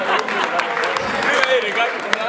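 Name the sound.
guests applauding at a baptism and birthday party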